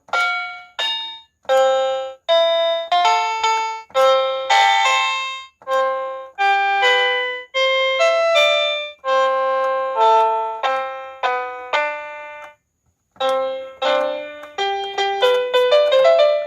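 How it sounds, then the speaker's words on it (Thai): A cheap 61-key electronic keyboard with a bright piano voice plays a lively melody of separate notes and short phrases, close and clear, with one brief pause. "อันนี้จะเป็นเสียงเปียโนมากกว่านะครับ"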